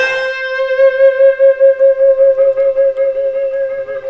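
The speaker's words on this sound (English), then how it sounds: "you would have a clean blues tone going on." Electric guitar picked softly with a clean blues tone, one sustained note ringing out and then pulsing with a wavering tremolo-like swell, close and moderately loud with no voices.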